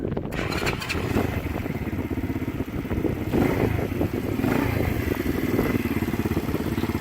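A 50cc Barton Sprint motorcycle engine idles steadily nearby, a low puttering rhythm with occasional mechanical clatter, running without any talking.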